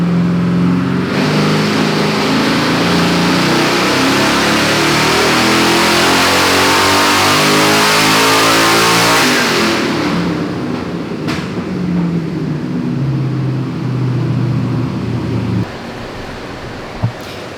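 A twin-turbo LS-swapped Ford Fairmont runs a full-throttle dyno pull: the engine climbs loud and close from idle through a long rising rev, then cuts off abruptly and settles back to a rough idle.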